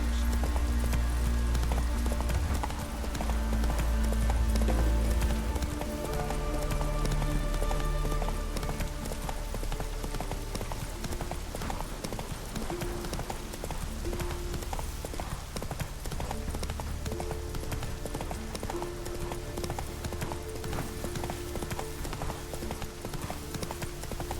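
Hooves of the horse Roach clip-clop in a fast, steady galloping rhythm in The Witcher 3, set against a game music bed and occasional faint voices.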